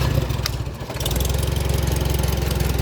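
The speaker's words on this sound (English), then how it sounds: "Let me just get this back down to idle," A 1954 IH McCormick Farmall Super C tractor engine settles from a brief rev into a steady, close, loud idle with an even, rhythmic low chug.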